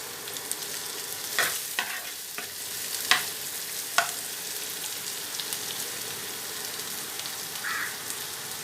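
Torn curry leaves hit hot oil in a pan for a one-pot rice lunch, giving a steady crackling sizzle with a few sharp spits and stirring clicks, close and moderately loud, no talking.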